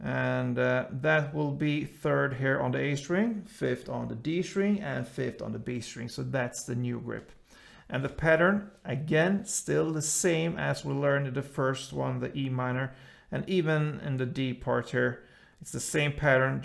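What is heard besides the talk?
No everyday noise stands out behind the speech.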